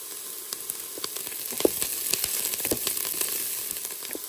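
Garlic sizzles in a pot alongside browned beef short ribs for a beer stew, making a close, continuous frying hiss scattered with sharp pops and crackles.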